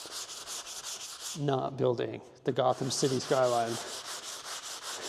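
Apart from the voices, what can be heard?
sanding a surface in a LEGO studio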